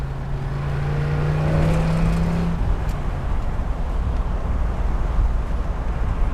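A 1962 Corvette convertible drives along with a steady low engine rumble and wind rush, a brief rising engine tone early on, then constant road noise.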